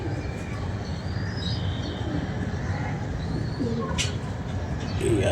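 Pigeons circle overhead during an outdoor flight, with soft cooing and faint bird calls. A steady wash of background noise lies beneath them.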